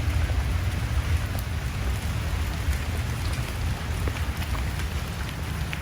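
Heavy rain pours steadily outdoors at a civic center mall, a dense, continuous hiss and patter on hard surfaces with no breaks and no voices.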